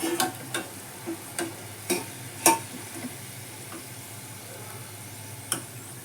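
Onions fry in a pan for chicken dum biryani, a faint, steady sizzle under a series of irregular utensil taps and scrapes, with one sharper clack midway.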